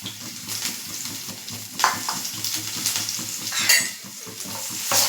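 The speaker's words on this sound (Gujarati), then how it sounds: "લસણ જ્યાં સુધી ગોલ્ડન બ્રાઉન થાય ત્યાં સુધી આપણે સાકડી લેશું" Chopped garlic and a green chili sautéing in hot oil for dhaba-style dal palak, a steady close sizzle with repeated scraping and clinking as a utensil stirs the pan.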